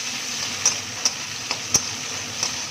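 Capsicum frying lightly in a pan for a Bengali-style chilli egg fish, giving a steady, soft sizzling hiss broken by a few sharp pops and clicks, with no voices.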